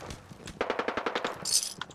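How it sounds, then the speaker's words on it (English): Rapid bursts of automatic gunfire in the game Fallout 4 rattle in a quick rhythmic string, moderately loud, followed by a brighter crackling burst near the end. "More gunfire."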